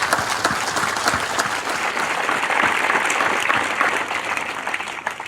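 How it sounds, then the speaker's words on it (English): A crowd at an Army cadet summer training graduation ceremony gives a sustained round of applause for the troops, steady and full for several seconds before starting to thin out at the end. "So if we could also have a round of applause for the great troops that support"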